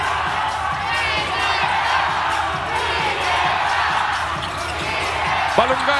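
A packed Philippine basketball arena crowd roars and cheers continuously at a PBA game, loud and steady, with sneaker squeaks and the odd ball bounce underneath.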